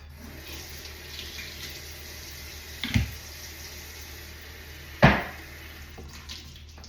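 Tap water running into a bathroom sink while a face is rinsed, a soft steady stream with two louder splashes from hands scooping water, close and alone.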